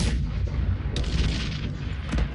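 Tower cannons fire and shells explode in the real-time strategy game Cossacks 3, making a loud, continuous barrage of overlapping booms and rumbling blasts with no pause between them.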